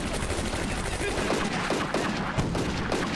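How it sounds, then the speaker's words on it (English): Machine guns rattle in the Combat Mission: Afrika Korps wartime desert battle, German gunners firing on tanks; a dense, continuous wash of mid-distance automatic fire with scattered sharper bursts, steady and loud throughout. "Some of the German machine guns definitely have range to target the tanks."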